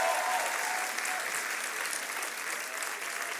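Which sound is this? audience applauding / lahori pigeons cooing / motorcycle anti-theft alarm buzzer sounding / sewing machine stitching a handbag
audience applauding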